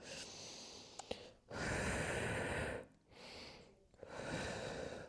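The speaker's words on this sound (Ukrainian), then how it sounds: "Дихаю глибоко, відчутно." Slow, deep breaths during an abdominal and back workout, drawn in and pushed out audibly, several long airy inhales and exhales close to the microphone with brief pauses between.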